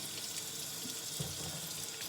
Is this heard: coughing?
no